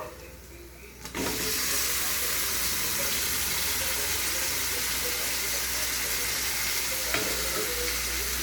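Chicken pieces for chicken curry drop into a hot pan and burst into a loud, steady sizzle that continues without pause, with occasional stirring clinks.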